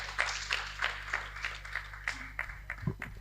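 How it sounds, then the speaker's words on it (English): A small audience at a health forum claps for an arriving speaker, with distinct, fairly sparse hand claps in an uneven rhythm over a constant low electrical hum. "A clap for her coming here."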